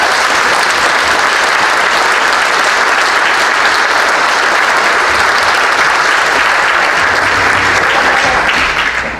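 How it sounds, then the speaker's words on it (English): Sustained applause from an audience at a Fort Kent Chamber of Commerce dinner in 2020, a dense, steady round of clapping that fills the room for the full stretch and fades only at the very end. "I think we could all give them a round of applause."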